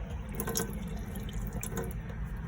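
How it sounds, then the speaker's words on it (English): Fresh water runs from a tap inside a AutoCruise StarGazer motorhome, a soft continuous trickle with intermittent splashes and drips, close by and fairly quiet. "make sure you've got nice, clean, fresh water coming through there"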